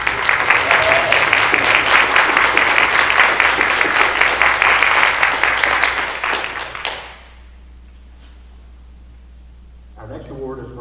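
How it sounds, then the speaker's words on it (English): A school board meeting audience gives a round of applause for the Pulaski County School Board, a dense crackling wash of many hands that runs loud for about seven seconds, then cuts off to near silence before a voice resumes. "Would everyone please join me in a round of applause for our Pulaski County School Board."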